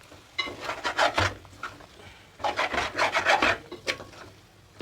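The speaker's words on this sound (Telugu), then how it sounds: "ఈ మసాలాలన్నీ చికెన్కి కలిసేదాకా బాగా కలపాలి" Chicken stirred with masala spices in a pan, two bursts of rhythmic rasping scrapes of a spoon against the pan with a quieter pause between, close and fairly loud.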